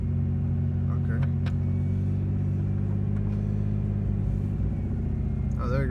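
A Mitsubishi 3000GT VR4 engine idles roughly with a steady low rumble, its misfire showing as an uneven, stumbling beat, loud and continuous throughout.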